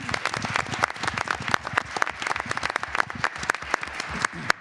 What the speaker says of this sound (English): How about a round of applause for Ms.